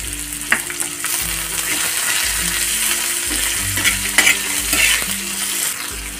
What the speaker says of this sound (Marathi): दोन ते 3 मिनिटं कांदा फ्राय करून घ्यायचा।